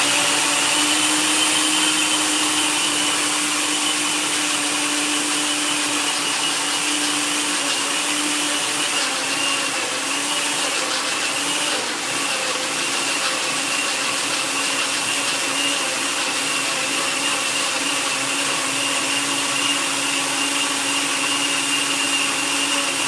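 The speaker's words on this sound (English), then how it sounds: "So got the little blender right here. And this is how I make my sofrito." A small blender whirs steadily while blending sofrito, a loud, continuous motor drone that holds at an even pitch from start to finish with no pauses.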